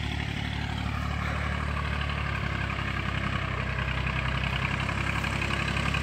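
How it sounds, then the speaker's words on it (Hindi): A tractor ploughs a farm field being prepared for onion sowing, its engine droning in a steady low rumble at moderate distance, constant and unbroken with no voices over it. "वो उधर हल चला रहे हैं, तो मैं दिखाता हूँ।"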